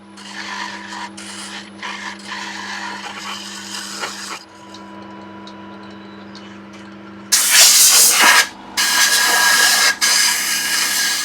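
Scraper tool cutting a wet walnut hollow form spinning on a woodturning lathe: a steady hissing rasp over a low motor hum, growing much louder and harsher in bursts toward the end.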